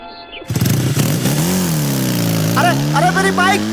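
A motorcycle engine revs hard and pulls away up close, its pitch climbing and falling as it accelerates, while a voice cries out over it.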